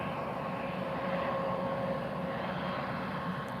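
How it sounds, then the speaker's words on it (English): At Lisbon Airport, an Embraer jet taxis to line up for takeoff, a faint, steady distant engine hum with a thin whine running through it. "Another Embraer coming to line up for takeoff."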